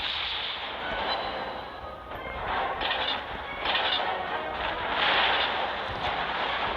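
Heavy booms and rumbling from the main guns of the warship South Carolina roll through a naval battle video game, rising and falling in several swells over continuous low battle noise.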